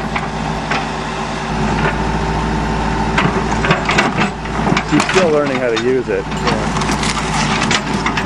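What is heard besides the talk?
Saturn car's plastic body panels crunching as it is destroyed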